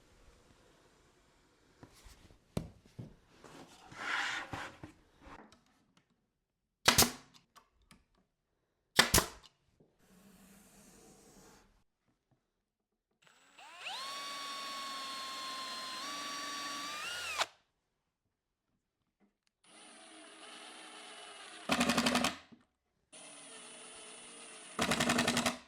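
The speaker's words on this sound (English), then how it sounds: "Tack the parts in place with an 1¼ inch nail to keep them from shifting around" Walnut end table parts tacked together with 1¼ inch nails in a woodworking shop: sharp separate bangs of a nailer mixed with bursts of a whining power tool and pauses of quiet.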